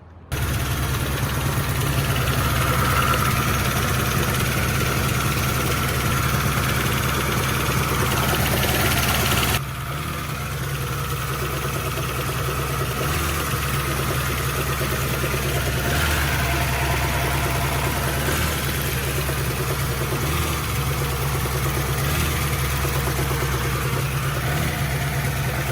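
A car engine fitted with new homemade polyurethane motor mounts idles steadily and loudly with a constant low hum, slightly dropping in level partway through, with no talking.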